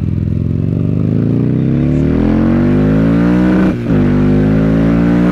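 A Buell XB9R Firebolt motorcycle engine drones loudly and steadily while riding in traffic, its pitch climbing gradually as it accelerates, with a brief dip around a gear change before pulling on.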